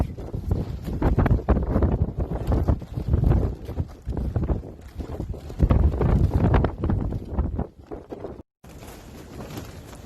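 Strong gusty wind batters a 26x10x7 Mellcom greenhouse, roaring and buffeting the microphone in loud surges with flapping cover noise, then briefly cutting out and returning quieter.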